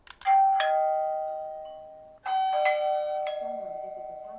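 A Tapo smart doorbell chime rings through an H500 home hub as two clear ding-dong tones, each decaying with a ringing tail, loud and close with no one talking over them.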